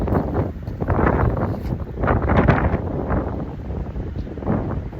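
Wind buffets the microphone in loud, gusty surges on a saltwater fishing dock, a rough low roar rising and falling throughout.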